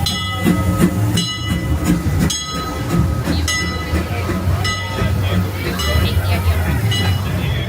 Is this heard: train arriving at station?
yes